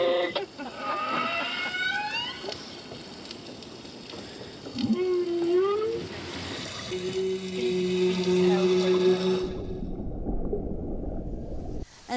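A humpback whale singing, heard through the hull of a boat, with long rising and falling tonal moans and sustained hums over a watery rushing background, fairly loud and continuous until it fades near the end.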